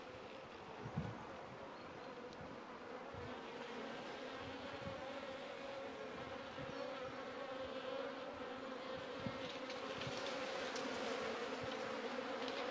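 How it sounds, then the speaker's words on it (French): Agitated honeybees hum in a steady, dense buzz at a hive during a winter oxalic acid treatment against varroa, a continuous drone with no talking. "les abeilles sont pas très contentes"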